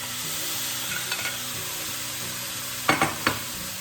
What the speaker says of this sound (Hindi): अब मैं गैस को फुल फ्लेम पे कर दूंगी और ये सारे टमाटर मैं इसमें डाल दूंगी